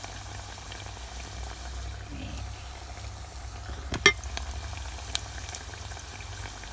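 Canned fish cakes fry in oil with a soft, steady bubbling sizzle close by, broken by one sharper clatter midway and a faint tap later, no voices.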